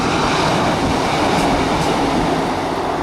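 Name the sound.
passenger train arriving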